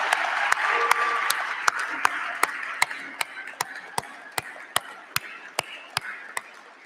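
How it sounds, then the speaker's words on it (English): Commencement crowd applauds the Stockton University graduating class of 2021, dense clapping with sharp regular beats that slowly thin out. "Everyone, please join me in giving the Stockton University class of 2021 a huge round of applause"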